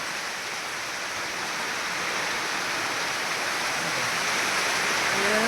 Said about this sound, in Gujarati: આ ઘણા દિવસે વરસાદ આવ્યો.